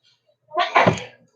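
A single sharp sneeze, loud and close, bursting out of near silence and fading quickly.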